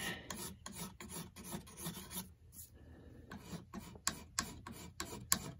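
A hand file rasps across a forged steel flintlock breech tang in quick, rhythmic back-and-forth strokes, close but fairly quiet, with a brief pause midway.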